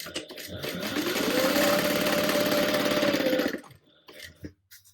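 Sewing machine basting the raw top edges of a tote bag, running in one continuous steady whirring burst of about three seconds, close, then stopping with a few small clicks and handling noises.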